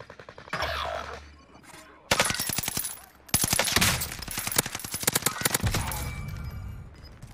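Rapid bursts of automatic gunfire ring out in a Call of Duty Warzone Rebirth match, several dense volleys of sharp shots separated by short pauses, loud and close, with faint voices in between.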